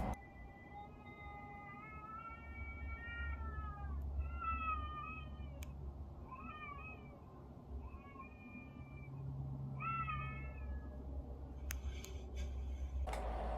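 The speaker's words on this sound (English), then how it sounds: "Here's my friend the cat." A cat meowing repeatedly at night aboard an RV, a series of clear, fairly close drawn-out meows with rising and falling pitch, some doubled, over a steady low engine-like hum.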